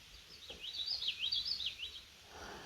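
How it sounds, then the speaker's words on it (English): A bird sings a quick warbling, rising and falling phrase, faint and somewhat distant over soft outdoor background noise. "what is that bird?"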